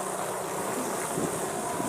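A strong typhoon wind gusts hard in a short, dense roar of broadband buffeting, close to the microphone and heard alone.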